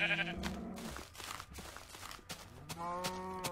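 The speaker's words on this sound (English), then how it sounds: "Is this a gray sheep or a white sheep?" Sheep in the Minecraft video game bleat, with a wavering cry at the start and another near the end, quiet and close, separated by soft clicks and game noise, with no talking.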